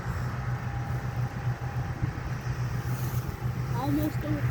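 A 30-year-old combine harvester cuts barley, its engine and threshing machinery giving a steady, loud, close drone that runs unbroken throughout, with a brief voice-like sound near the end.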